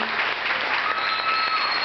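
Steady crowd applause at a sunset gathering, a dense continuous wash of many hands clapping at close range for the whole stretch, with no voices over it.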